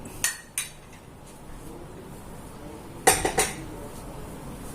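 A metal spoon clinks against a glass of sulaimani black tea, a couple of light taps early on and then a brighter cluster of three or four rapid clinks, close and alone in a quiet kitchen.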